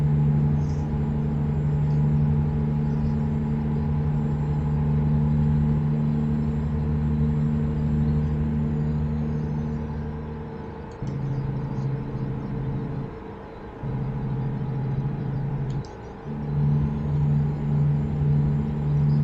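A Peterbilt 579 truck hauling potatoes drones along with a steady low engine hum and road rumble, the pitch dipping and shifting as gears change midway before the engine settles back into its steady pull.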